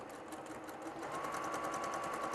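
A sewing machine stitches quilt strips for a half-square-triangle string quilt, running as a fast, steady, close mechanical whirr with rapid needle chatter and no talk.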